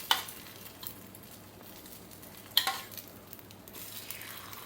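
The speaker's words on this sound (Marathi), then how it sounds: "आता आपण ह्यामध्ये आपल्या पॅनमध्ये आपण अंडा आहे ते मिक्स केलेलं टाकून घेऊया." Beaten egg mixture for anda appe sizzles quietly in an appe pan over low gas, with a steady soft frying hiss and a couple of sharp clinks of a utensil against the pan.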